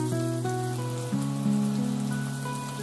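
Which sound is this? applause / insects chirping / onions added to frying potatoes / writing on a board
onions added to frying potatoes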